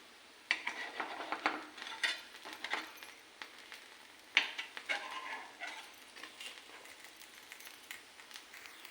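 Metal spatula clinks and scrapes against a hot appe pan as the appe dumplings are flipped one by one. Sharp taps come in irregular clusters, close and moderately loud, with no voices.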